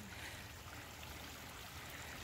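A small mountain stream trickles along a trail near Grassi Lakes in Canmore, a quiet, steady watery hiss with soft burbling, close by and uninterrupted, no voices heard.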